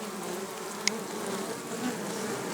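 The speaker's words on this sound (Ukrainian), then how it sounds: "Бджоли повно" A thick swarm of honey bees buzzing steadily nearby in an opened log hive, one faint click partway through, the drone holding even from start to finish.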